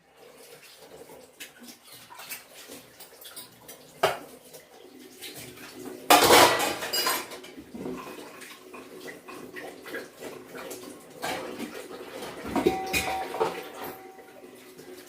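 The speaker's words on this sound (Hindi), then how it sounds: "इतने बर्तन मैं धो चुकी हूँ" Dishes, pots and pans being washed by hand in a home kitchen after making carrot halwa, with clattering utensils and running water in irregular bursts, one loud burst of water and clanking near the middle.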